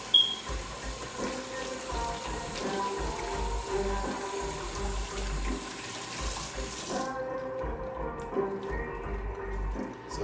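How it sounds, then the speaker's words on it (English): Isinglass is rinsed under a running kitchen tap, a steady splashing stream of water over a sink that continues for several seconds, and the high hiss cuts off partway while lower sloshing carries on. "Just rinse them off a little bit."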